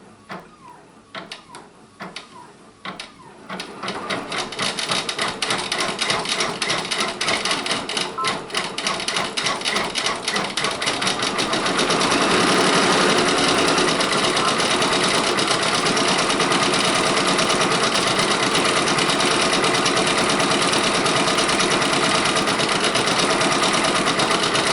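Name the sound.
Brother Persona PRS 100 embroidery machine stitching reindeer applique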